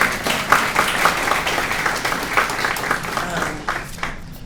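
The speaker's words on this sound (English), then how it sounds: "give him a round of applause" An audience at a community coalition meeting applauds in a sustained wash of clapping, with scattered voices in the room throughout.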